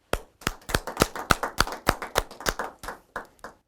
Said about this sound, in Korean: 우리 모두 대모님께 진심 어린 감사의 박수를 보내주시면 좋겠습니다.